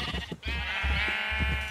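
A Minecraft sheep in a Sky Factory world gives a sustained, wavering bleat that carries on through most of the moment, near and clear, with no one talking.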